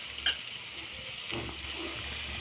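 Chopped shrimp tipped into onions frying in oil, a steady close sizzle with a brief stir at the start.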